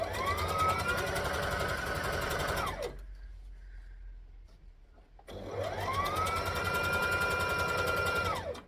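A sewing machine stitches a skirt in two sustained runs, each rising in speed and then winding down, with a short quiet pause between them. The motor whirs close and steady, with no talk.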